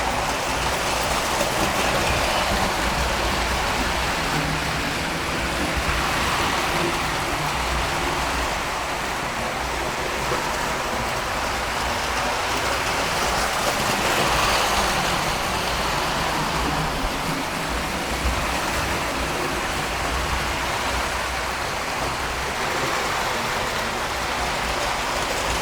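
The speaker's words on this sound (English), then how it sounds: "I know that you can't hear me very well when the trains are running." Prewar standard gauge and HO model trains running together on a plywood layout, a steady loud rumbling roar with wheel clatter and the board drumming throughout, no pauses.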